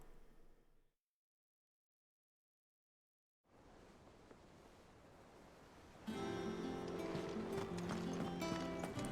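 Horse hooves clip-clop in Final Fantasy XVI, a steady trotting rhythm that begins after a short silence and runs under game ambience, with a swell of music near the end.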